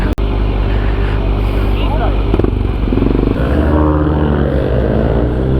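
A motorcycle engine runs steadily and loud throughout, its low rumble shifting pitch partway as it revs, while people talk over it.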